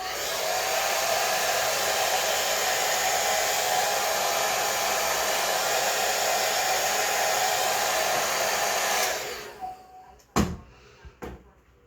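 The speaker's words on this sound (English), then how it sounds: "so I'm also using a dryer." A hair dryer blows steadily and loudly while hair is being styled, then shuts off near the end, leaving a few faint clicks and knocks.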